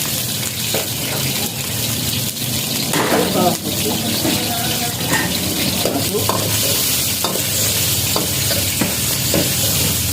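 Steady loud sizzling of chicken frying in hot oil, with scraping and stirring clatter throughout.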